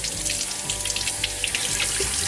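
Warm tap water runs steadily into a sink while vinyl is peeled from a mug, a continuous close hiss with small splashes and trickles throughout.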